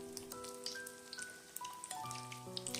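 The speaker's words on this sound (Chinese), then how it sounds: "开中火慢慢的炸制，用筷子搅动几下，防止粘连" Corn flour cakes coated in egg fry in oil over medium heat, stirred with chopsticks, giving a faint, steady crackle and sizzle under soft background music.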